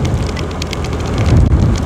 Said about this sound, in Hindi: लेकिन बारिश हो रही है